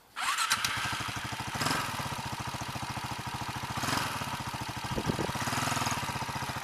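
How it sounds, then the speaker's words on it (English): A 1999 KTM LC4 640 Enduro single-cylinder motorcycle fires up and settles into a loud, steady, thumping idle with a few brief revs, close by and with no talking. "let me go and see if I can start it and go for a little ride"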